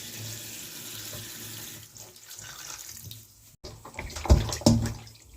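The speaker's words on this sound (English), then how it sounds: "add a little running water" Water runs steadily from a kitchen tap over raw chicken being washed with vinegar for Jamaican barbecue jerk chicken, with hissing flow, shifting splashes and louder bursts near the end as the meat is handled under the stream.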